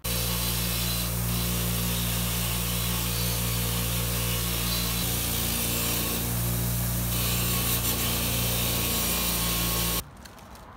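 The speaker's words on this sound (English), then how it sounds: "I just want to clean it up on my bench grinder. Just the wire, just to get the rust off." A wire wheel on a bench grinder cleans rust off bolts for a 2005 Chevy Colorado suspension job, giving a loud, steady whirring hum with grinding scrape that runs continuously, then cuts off abruptly near the end.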